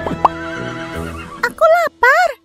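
A high, wavering pony whinny in two bursts near the end, following a short squeal, with some voice-like sounds early on.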